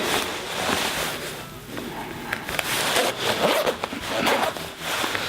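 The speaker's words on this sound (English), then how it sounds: "if we zip it up," A Mountain Life coat being zipped up, giving a continuous scratchy zipper rasp for several seconds at close range with no talk.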